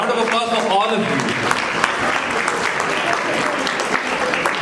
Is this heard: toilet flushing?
no